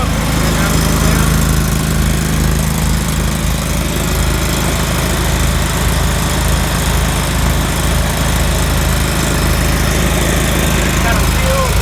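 A Cimline PCR-25 asphalt pavement cutter router with a Kohler 25HP gas engine runs loud and steady nearby, a continuous droning engine roar at constant pitch with someone talking over it.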